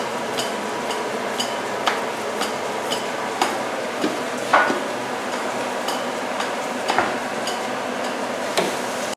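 Batter being stirred and mixed in a bowl in a home kitchen, a steady scraping churn broken by irregular light knocks and taps of the utensil against the bowl, close and continuous with no talking.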